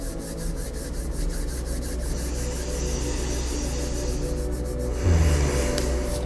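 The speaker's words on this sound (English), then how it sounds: "Bring those hands out in front of you. Gently rub them together." Palms rubbing together gently in a steady, continuous swish, close and soft, with no talking over it.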